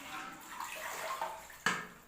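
Goat lung meat being rinsed by hand in a basin of water during a third wash, a soft continuous sloshing and swirling close by, with a brief louder splash near the end.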